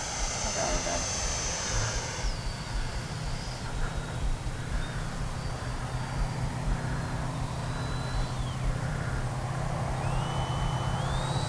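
A Freewing Yak-130 RC model jet flying overhead, its electric ducted-fan whine rising and falling in pitch as it passes over a broad continuous roar, with people talking faintly in the background.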